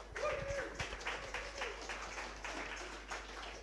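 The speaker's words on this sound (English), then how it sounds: "a big shout out, a big thank, round of applause" A live audience applauds at a WordPress London meetup, a steady dense patter of many hands clapping at a fairly low, somewhat distant level for several seconds.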